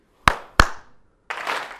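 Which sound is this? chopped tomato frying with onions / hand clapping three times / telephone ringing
hand clapping three times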